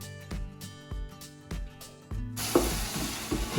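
Tonal, music-like notes come first; then onion, ginger-garlic paste and mint roasting on high flame for chicken biryani burst into a bright, steady sizzle with occasional stirring knocks.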